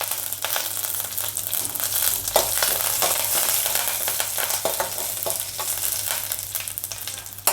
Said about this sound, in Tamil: இதில் பார்த்திங்கன்னா கடுகு, உளுந்து, சீரகம், இது எல்லாத்தையும் தாளிச்சிக்கலாம்.